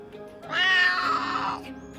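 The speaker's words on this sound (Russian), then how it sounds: "Кот начинает проявлять повышенную активность, агрессию, может мяукать громче и чаще" A domestic tomcat gives one loud, drawn-out meow lasting about a second, close by, with quiet surroundings before and after.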